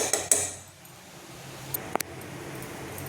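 A spoon clinks on a bowl while food colour is stirred into a suji laddu mixture: a couple of sharp metallic knocks at the start, soft quiet scraping, then two more quick clinks.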